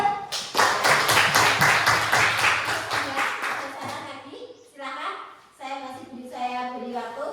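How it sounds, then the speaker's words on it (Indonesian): A school class claps hands in rhythmic unison during a lesson, loud regular beats at first, then looser scattered clapping as children's voices chatter over it. "Yuk, tepuk tangan yuk."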